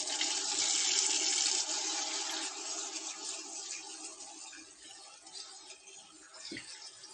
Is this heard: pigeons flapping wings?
no